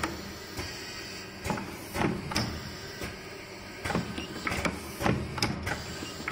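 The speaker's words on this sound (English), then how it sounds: "Printing now." Large single-color pad printer stamping a logo onto a shoe sole, running in a rhythmic cycle of sharp mechanical thumps and slides about once a second over a steady machine hum.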